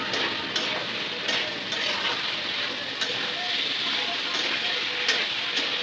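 Data shak stems and potato pieces turn in a spice paste in a pan for a Bangladeshi fish curry, making a steady, dense sizzle of frying with occasional scraping stirs, close and continuous.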